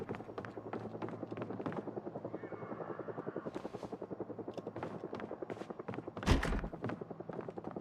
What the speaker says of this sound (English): Oh, that's the helicopter event.